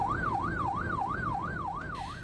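Wailing sirens from a convoy of four police cars escorting a vaccine car and a Sinovac vaccine ambulance in Solo, Central Java, a steady up-and-down siren rising and falling about every third of a second over constant road traffic noise.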